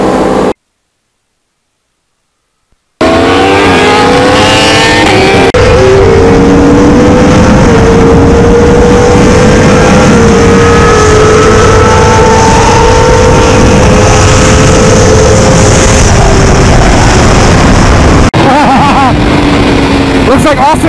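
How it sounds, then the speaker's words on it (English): Sport motorcycles, a Yamaha R1 and a BMW HP4 or S1000, drag racing on a street, one running racing fuel, give a loud sustained engine roar with rising revs across most of the stretch after a brief silent gap, with voices mixed in. "So Charles beat the S1000 with a rider that weighs 20 pounds less that's running MR12 racing fuel."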